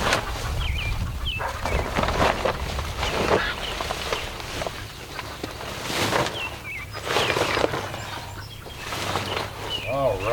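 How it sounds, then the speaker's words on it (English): A broody hen clucking in a chicken coop, with low, uneven grumbling calls and rustling close by and some fainter bird sounds mixed in. "might have a broody chicken in here"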